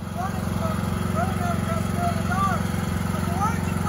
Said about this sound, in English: That's my lawnmower.